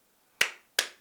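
Two sharp, isolated hand claps about a third of a second apart ring out close by in a quiet room, each with a short decaying tail.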